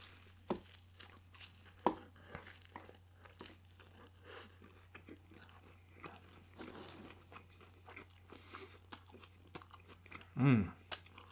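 Fast food from Jack in the Box and Taco Bell being eaten close up, with soft chewing and several sharp bites or crunches scattered over a quiet background, one louder crunch near the end.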